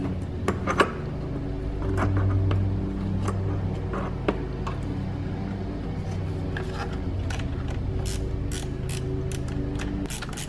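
Ratchet wrench clicking as it loosens the 10 mm battery terminal nuts on a 2012-2022 Mitsubishi Mirage G4, with bursts of close, rapid ratchet ticks spread across a low steady hum.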